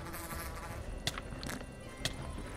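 Faint, steady buzzing of bees in the Minecraft video game, a thin insect drone running throughout with a few sharp clicks on top, quiet and without talk.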